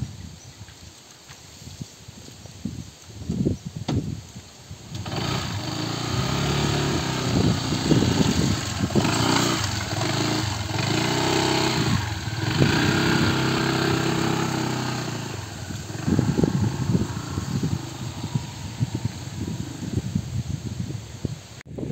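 Small motor scooter engine running on a muddy rural road, a continuous rough buzzing drone that rises after a few seconds, holds steady and close for a long stretch, then eases slightly with uneven revs.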